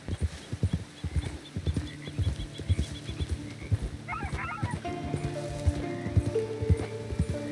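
Rhythmic clip-clop of horse hooves trotting steadily up close in Red Dead Redemption 2, with a game soundtrack and a soft whinny-like tone layered over the steps.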